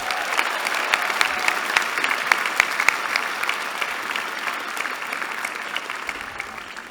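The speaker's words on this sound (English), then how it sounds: "Let's give them a round of applause." A crowd applauds at the Haas MBA commencement ceremony, with loud, sustained clapping that fills the hall throughout and slowly thins toward the end.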